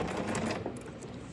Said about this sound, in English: Okay, and we're gonna sew right across. Back stitch.